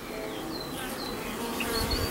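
Honeybees buzz steadily at a beehive while a forager performs a waggle dance, a dense close insect drone with a few higher wing whines passing through.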